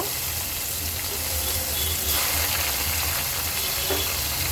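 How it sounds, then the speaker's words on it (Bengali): Chopped onion goes into hot oil in a wok, already seasoned with bay leaves and whole cumin, producing a steady, moderately loud sizzle with a faint low hum beneath. "কেটে রাখা পেঁয়াজ কুচি দিয়ে দেব"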